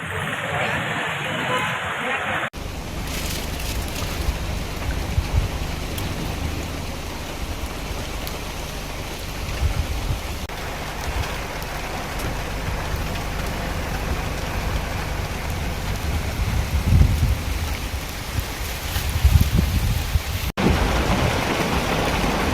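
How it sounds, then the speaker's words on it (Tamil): Heavy rain pours steadily over Udhagamandalam (Ooty) in a dense, continuous hiss, with low rumbles that could be distant thunder swelling near the end. "உதகையில் கனமழை பெய்து வருகிறது"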